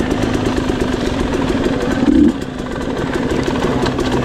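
An enduro motorcycle on a trail climb churns along loudly, its engine droning steadily with a sharp throttle surge midway before settling back to a working rumble.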